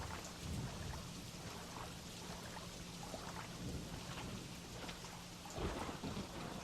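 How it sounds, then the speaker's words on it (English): Steady rain pours in Peter Jackson's King Kong on PS2, with rumbling thunder running continuously beneath it and a heavier thunder swell near the end, without any voices. "the rain just sets in very naturally"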